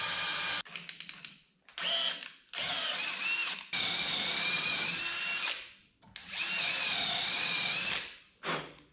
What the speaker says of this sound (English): Good drill bit just made all the difference there